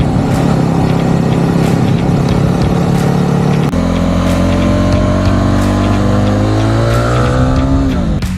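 A BSA Bantam 350 with a single-cylinder, liquid-cooled four-stroke engine revs loudly and close, its pitch shifting as it climbs through the gears.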